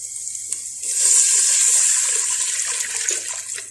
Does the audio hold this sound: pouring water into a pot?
yes